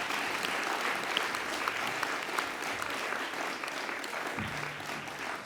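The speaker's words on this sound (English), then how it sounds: "So give him another round of applause" An audience at the Animal Justice Awards claps for an absent award winner, a continuous, even roll of applause lasting several seconds with a few brief louder hand claps near the front.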